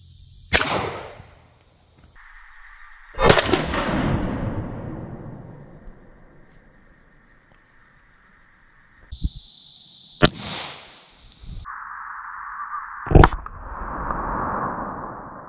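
A Ruger pistol fires defensive ammunition at a cabbage: four or so sharp, isolated cracks spaced seconds apart, separated by steady electronic tones and quieter gaps.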